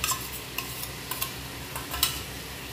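Meat with Kashmiri chilli powder, salt and dry chilli paste is sautéed in a pan, a soft continuous sizzle with a few light clinks and scrapes of a spoon, close and quiet.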